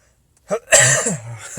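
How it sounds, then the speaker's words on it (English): A single sharp cough bursts out, followed by a short throaty rasp, close and fairly loud after a moment of quiet. "I laughed myself into a cough there."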